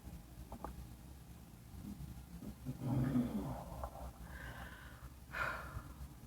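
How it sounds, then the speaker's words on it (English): A man snoring somewhere nearby while on the road, soft rough breaths and snorts rising and falling across several breaths, fairly faint with a quiet background. "My husband snores so bad."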